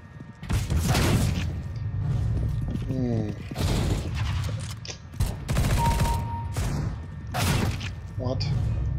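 Repeated volleys of gunfire in a first-person shooter video game, loud bursts arriving in several clusters, with people talking in between.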